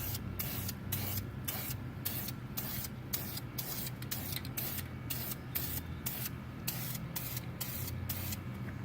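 Spray can applying a final coat of paint to brake calipers, heard as a string of short hissing bursts in quick repeated pulses close to the mic, with no talk.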